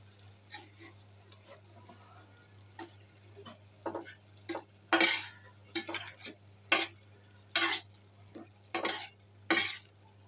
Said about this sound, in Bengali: এবার মশলার মধ্যে দিয়ে একটু নেড়ে দিব।